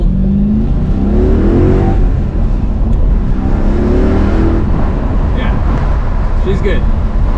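A 2005 Mercedes-Benz CLK55 AMG converted to a manual transmission revs hard through a quick acceleration pull, its engine note rising and falling steadily over continuous road noise, with people talking inside the car.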